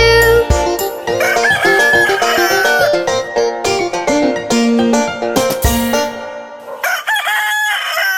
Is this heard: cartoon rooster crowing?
yes